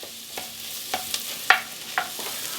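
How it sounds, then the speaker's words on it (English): Chopped garlic goes into a pot for a vegan lentil soup and is stirred, with a soft sizzle under a few light scrapes and clicks of the spoon, close and fairly quiet. "you want to add some garlic. 2 cloves of chopped garlic"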